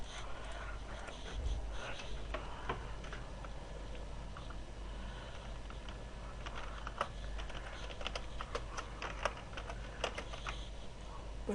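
Computer keyboard typing as a first name is entered into an account form, steady clicks with a few sharper key strikes over a low room hum, no talking.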